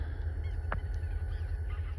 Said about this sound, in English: what better way to end the picture taken with a close-up of a greater white-fronted goose?